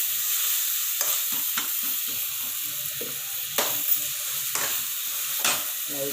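Tomato kurma ingredients sautéing in a pan, a steady close sizzle and hiss with scattered soft stirring clicks and scrapes throughout, no voices.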